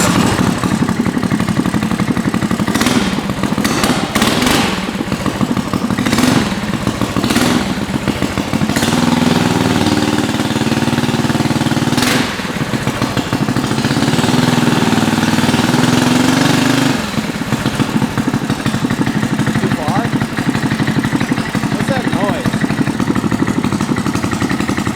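A 420cc race bike engine idles loudly and steadily up close, its uneven running broken by sharp rattling bursts and brief revs throughout.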